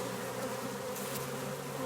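Honeybees buzz and fan at a swarm moving into empty hive equipment, a dense steady drone of many wings close by, with a few louder passes as single bees fly near.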